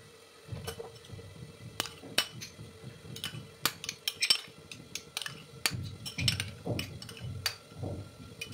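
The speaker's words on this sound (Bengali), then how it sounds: "দইটাকে আমি ভালো করে ফেটিয়ে নিচ্ছি।" Yogurt is whisked in a bowl with a spoon, giving rapid irregular clinks and soft scraping taps against the bowl that come in quick bursts, fairly close and moderately quiet.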